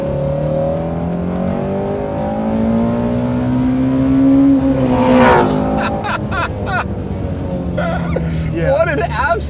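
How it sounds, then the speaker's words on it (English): A sports car engine revs up to redline, its pitch climbing steadily in a long sweep before dropping off, with people's voices reacting over and after it. "give us a rev right to the red line again, and just listen to how far it goes"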